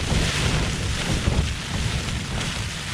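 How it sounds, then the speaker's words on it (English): Strong wind gusts buffet a Lanshan 2 Pro tent during a stormy wild camp, a loud continuous roar with surging rushes and flapping texture, close and steady throughout with no voices. "Some really strong gusts coming in now."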